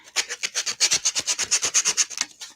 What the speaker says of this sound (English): Just gonna sand the edges of this really quick